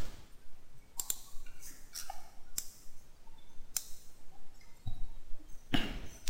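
Sharp computer mouse clicks spaced across a few seconds, several single clicks and a quick double, close and clear with no talking, during software installation on a PC.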